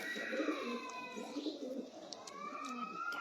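A Sialkoti pigeon coos softly nearby in the evening, giving a few low murmuring calls with faint chirps and background noise.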